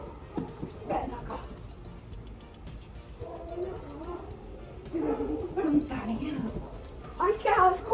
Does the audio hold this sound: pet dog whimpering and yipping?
yes